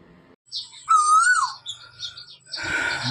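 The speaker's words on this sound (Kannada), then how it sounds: "ಕೋಗಿಲೆ ಕೂಗ್ತಾ ಇದೆ" An Asian koel calls once nearby on an organic farm, giving a clear, rising and falling whistled note that lasts about a second, followed by a brief burst of rustling noise.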